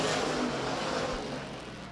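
Sportsman race cars in a heat race at Rapid Speedway produce a loud, continuous engine roar close by, holding steady and fading slightly toward the end, with no voices over it.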